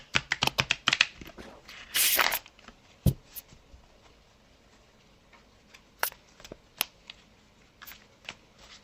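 Tarot cards are shuffled up close: a couple of quick riffling bursts, then scattered soft taps and slides as the deck is handled.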